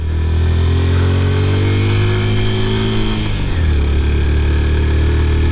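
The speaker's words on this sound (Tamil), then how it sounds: "இதில் பாருங்கள் பைக்குன்றது எந்த அளவுக்கு கஷ்டப்பட்டு ஏறுதுண்டு." A motorcycle engine strains loudly up a steep, winding road near Peacock Hill in Nuwara Eliya, Sri Lanka, the steady labouring drone shifting down in pitch partway through as the bike climbs.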